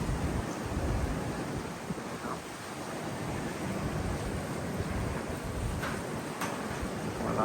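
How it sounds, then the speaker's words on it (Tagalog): Strong typhoon wind roars steadily outside a window, a dense, continuous broadband rush with gusty swells and no voices. "naririnig ko yung lakas ng hangin"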